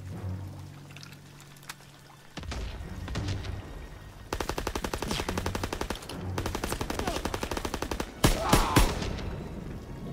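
Rapid machine gun fire in the World War II shooter Call of Duty WW2, several sustained bursts of loud, evenly spaced shots with brief pauses, the last burst sharpest, under faint background noise.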